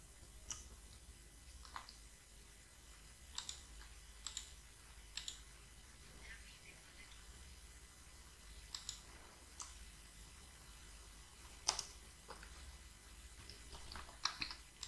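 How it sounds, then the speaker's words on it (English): Soft, scattered key clicks tap away at an irregular pace, faint and close, with quiet pauses between bursts. "I'm typing one more text."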